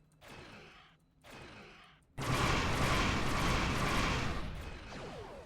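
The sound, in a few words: torpedoes hitting ship in Star Trek Online video game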